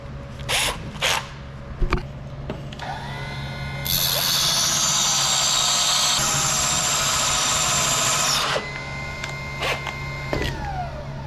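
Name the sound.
diamond wheel sharpening tungsten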